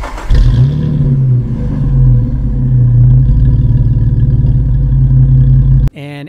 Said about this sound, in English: It's the MBRP exhaust, and I really like this. It's not overbearing or anything. It has a nice deep low sound.